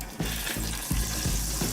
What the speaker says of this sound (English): A grilled cheese should not sizzle like that.